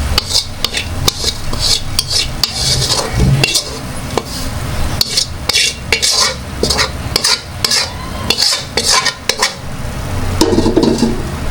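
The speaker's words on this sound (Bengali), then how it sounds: "এখন হচ্ছে পেঁয়াজ বেরেস্তাটা ঢেলে দিব।" Fried onions poured with their oil over marinated beef in a pot, then stirred with scraping metal utensil strokes and soft sizzling, steady clatter throughout.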